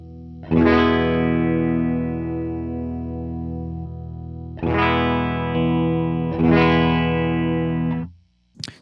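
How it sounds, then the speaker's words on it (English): A flanger effect on a sustained, heavily processed synth-like tone: three long, loud swelling notes with sweeping, whooshing harmonics and a brief pause between them, alone with no talk. "So you can hear it's not a very transparent sound, but it's definitely doing some stuff to the EQ"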